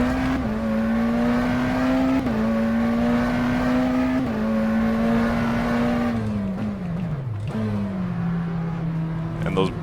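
A McLaren Senna GTR race car in rFactor 2 drones with a steady, loud engine tone that dips sharply as the driver brakes hard into a corner, then holds steady again.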